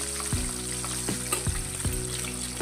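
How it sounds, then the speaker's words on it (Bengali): Pabda fish frying in hot oil in a pan, a steady crackling sizzle with a few sharp pops and clinks of a utensil, close and without voices. "আর একদিক এরকম লাল করে ভেজে নেব।"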